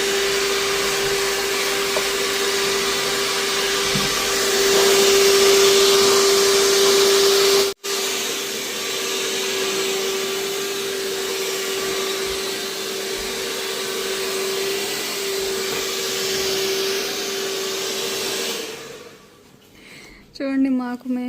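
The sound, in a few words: hair dryer drying hair after washing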